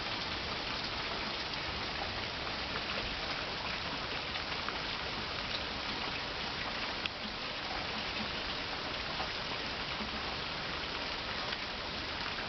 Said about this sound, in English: I just wanted to get a good view of the monsoon in Arizona when it's really raining